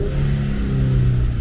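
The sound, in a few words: Infiniti Q50 engine revving with rev hang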